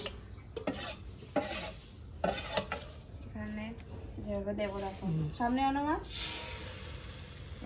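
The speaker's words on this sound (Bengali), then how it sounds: "দু হাতে ধর গামলাটা গুলে নে একটু নাড়িয়ে নে" Pitha batter stirred in a bowl, with quick scraping and clinking strokes close by, while voices talk over the stirring through most of the clip.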